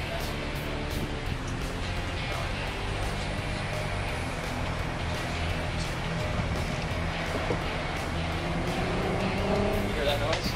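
A steady artificial engine hum from a Fisker electric car drives on continuously at moderate volume, with road rumble and faint clicks, blended with background noise throughout.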